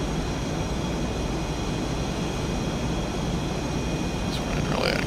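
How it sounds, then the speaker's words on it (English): Jet noise from an F/A-18 Super Hornet in the VRS Superbug flight simulator during low-level flight, a steady, dense roar with a thin high whine, constant and unbroken, no talking. "Hope those guys like the sound of jet noise."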